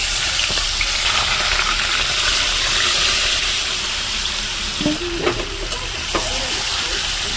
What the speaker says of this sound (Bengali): মাংসটাকে এখন তেলের উপরে দিয়ে দিচ্ছি।